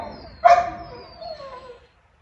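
A single loud dog bark or yelp is followed by a fainter whimpering tail at a residence in The Gambia, heard nearby against a quiet outdoor background.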